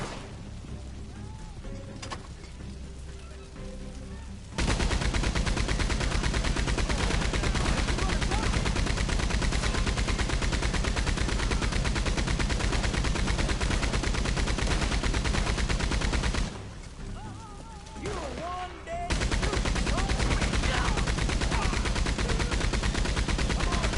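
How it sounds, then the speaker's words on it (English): Gunfire in Red Dead Redemption 2 Online on PS4 rattles in two long, dense stretches of rapid shots, loud and continuous, separated by a short quieter gap, with some voices faintly underneath. "Somebody's still firing?"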